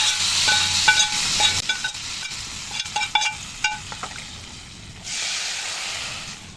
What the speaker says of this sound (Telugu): ఇప్పుడు మనం పక్కన చేసి పెట్టుకున్న పచ్చి పులుసులో ఈ తాలింపు కలిపేసుకోవాలి